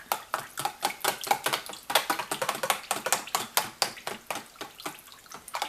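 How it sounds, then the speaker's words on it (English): A whisk stirs cucumber melon soap batter in a container, a quick, steady rhythm of close, sharp clicks and sloshing strokes. "Just gonna whisk it a little bit."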